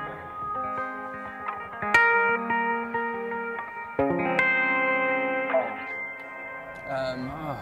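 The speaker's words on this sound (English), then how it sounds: "cool reverse, reverse reverb effects on this one" Sustained electric guitar chords swell and blur together with heavy, washy reverse reverb and echo-like effects, new notes blooming in every couple of seconds.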